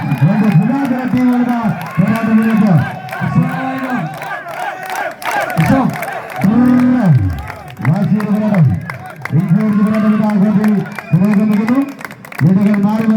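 Crowd at a sports match between Adoor and Pathanamthitta sides cheering loudly in rising and falling waves of shouting, sustained and near throughout, with some clapping mixed into the roar.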